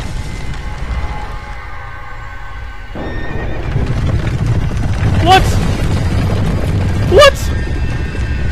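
Horses pulling the Executioner's Chariot in the video game Dark Souls 2 let out two loud, shrill neighs over a rumbling gallop that swells in as the scene opens up.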